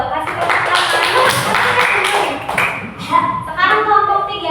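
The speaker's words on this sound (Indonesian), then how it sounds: "Kasih tepuk tangan" Children in a primary school classroom clap together in a brief burst of hand claps, mixed with chatter from the kids and a teacher's voice.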